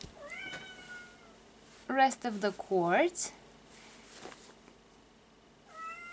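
A cat meows at a door, a short cry followed by a burst of several louder meows and one more near the end, with a person speaking briefly in between.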